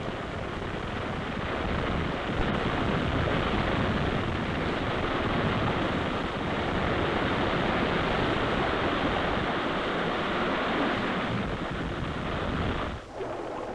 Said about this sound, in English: Let us watch the Daisy Geyser in action.